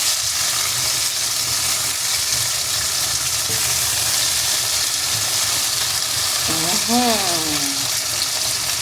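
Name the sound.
stir-frying shrimp with oyster sauce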